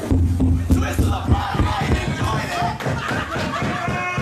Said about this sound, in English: Bateman barks at the crowd, and they bark back.